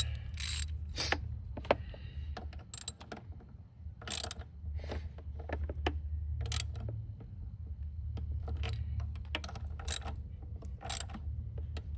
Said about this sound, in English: And of course we hit it with the wrench.